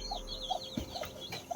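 A chicken shut inside a bag lets out several short, muffled clucks at irregular intervals, close by, with light rustling and low background noise between them.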